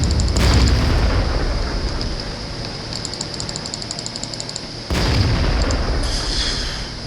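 In World of Tanks, an SU self-propelled gun lands a shell hit on the player's E-25 tank destroyer: a loud, close explosive boom with a rumbling tail. A second heavy impact crashes in a few seconds later over battle noise and electronic alert beeps.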